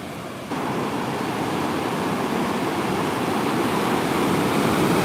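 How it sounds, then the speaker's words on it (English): Ocean surf crashing in a steady, loud wash of breaking waves, starting abruptly and building slightly, with wind noise and rain weather at a surfing spot, no voices. "Yep, ride them waves."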